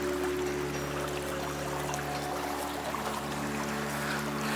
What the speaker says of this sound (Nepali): पानी त मजाले बग्दो रहेछ नि